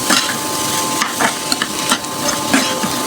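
Food stirred and fried in a pan with chopped coriander leaves in a home kitchen, a loud close sizzle broken by repeated scraping strokes of the stirring spoon, with no talk.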